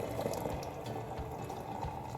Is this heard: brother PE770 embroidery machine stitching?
no